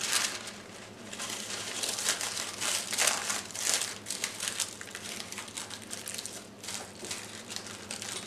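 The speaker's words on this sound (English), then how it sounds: "Place a sheet of edible rice paper on top of turrón." A sheet of edible rice paper crinkles and rustles continuously up close as it is laid and handled over almond nougat in a glass baking pan.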